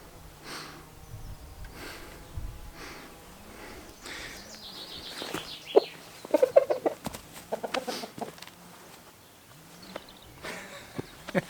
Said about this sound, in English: that is the biggest chicken in the world.